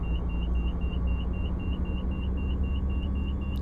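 An OH-6A helicopter's turbine engine in MSFS 2024 gives a loud, steady, close rumble under a rapid pulsing high beep, holding even throughout with no clear climb in pitch.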